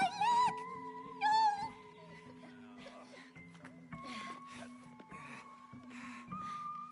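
Cartoonish meows from a cat in the co-op video game It Takes Two sound near the start, with rising whistly game tones and busy background sound effects continuing after.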